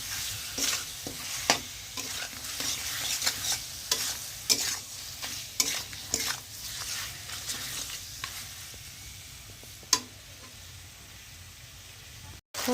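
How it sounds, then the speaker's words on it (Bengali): Meat sizzles and fries in a pan with turmeric and salt, close and steady, while a utensil scrapes and stirs it in repeated irregular strokes. "হলুদ আর লবণটা দিয়ে এখন আমি ভালো করে একটু কষিয়ে নেব"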